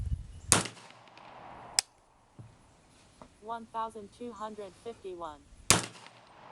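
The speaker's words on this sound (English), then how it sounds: "This is the modified Lee 309230. These are about 225-ish grains. Let's give it a shot." Three sharp, loud gunshots from a 300 Blackout rifle firing modified Lee 309230 cast bullets of about 225 grains over IMR4227 powder, widely spaced, with someone speaking briefly between the second and third shots.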